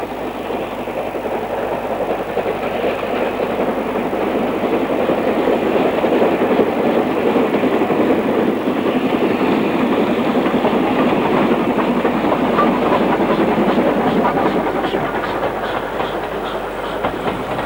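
A steam locomotive on the North Yorkshire Moors Railway runs steadily and loudly close by, with a continuous chuffing roar and rhythmic clickety-clack of wheels over rail joints throughout.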